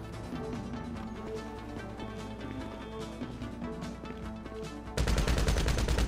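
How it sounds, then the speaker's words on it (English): Rapid automatic gunfire from a machine gun in the GTA V video game, sustained bursts crackling dense and loud for several seconds, growing harsher and louder near the end, with no talking. "I used a machine gun."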